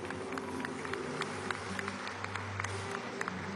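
An audience claps at a political rally in Bolívar state for the Zen People group, a steady patter of clapping heard from a distance, not loud.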